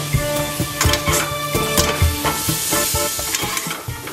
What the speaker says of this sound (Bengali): টমেটোটা দিয়েও ভালো করে নাড়িয়ে নেব।